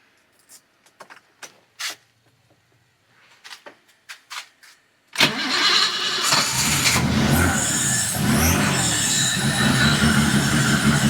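A 1980 BMW 528i E12 engine cranks with a few short bursts, then catches and runs on steadily at close range, loud and continuous through the rest of the clip.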